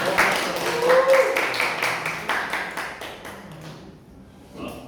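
Scattered applause from a Toastmasters club audience in Jakarta, a loose run of claps with a faint voice underneath, thinning out and fading toward the end.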